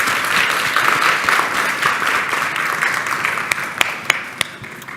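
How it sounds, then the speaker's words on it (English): Audience at a morning community summit applauds the guests leaving the stage, a dense steady clapping that thins toward the end with a few loud individual claps standing out. "And one more round of applause for everybody."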